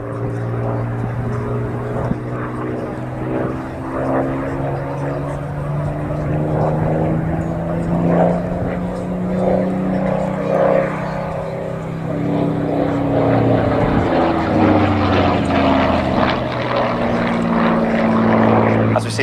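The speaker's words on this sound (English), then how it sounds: "conducting the rolling Spitfire display with MK356" Spitfire MK356 from the Battle of Britain Memorial Flight performing a rolling display at Cosford, its piston engine and propeller giving a loud, steady droning roar that swells and shifts in pitch throughout, with a commentator talking over it.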